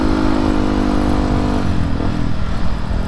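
A motorcycle being ridden on the road, its engine droning loudly and steadily close by, the pitch easing down partway through.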